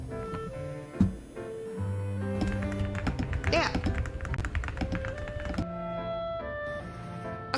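A computer keyboard is typed on in a short burst of quick tapping clicks, heard under steady background music, with one brief spoken word.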